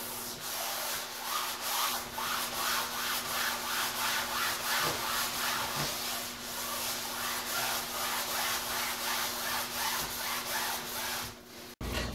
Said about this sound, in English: I'm just going to use a little bit of Windex to wipe this sanding dust off